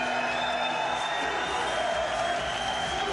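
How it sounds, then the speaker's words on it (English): A packed arena crowd at a Dublin MMA championship fight roars, chants and cheers in a steady, dense wash of noise that holds for the whole stretch. "Still the crowd are chanting and cheering."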